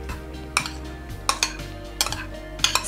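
A spoon mixes a fresh carrot and garlic salad with sour cream in a bowl, giving four or five clear metallic clinks and scrapes spaced about a second apart over a low background hum.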